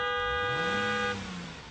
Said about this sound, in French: c'est le coup de klaxon de la rédaction